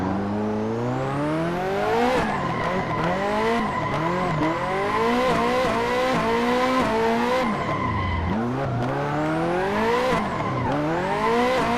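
A Hot Wheels car in a racing game drifts through corners with a loud, sustained tire squeal layered over a high, revving engine whose pitch swoops up and down repeatedly, close and continuous with no talking.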